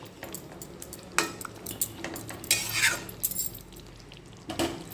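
A spatula stirs a simmering vegetarian pot, scraping and clinking against the metal in irregular bursts, with several louder rattles close by.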